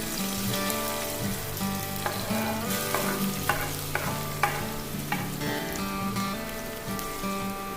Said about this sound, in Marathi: तूप गरम झाल्यावर त्यात हिरवी मिरची आणि आले घालून थोडा वेळ तळावे